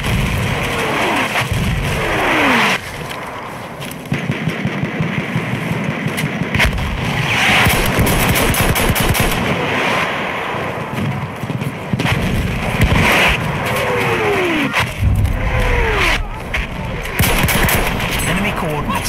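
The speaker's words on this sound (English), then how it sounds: "The enemies are being halted by our artillery barrage." Artillery barrage and gunfire rage in a Battlefield 1 multiplayer Operations match, dense booming explosions and rattling shots layered loudly and continuously, with voices talking over the battle.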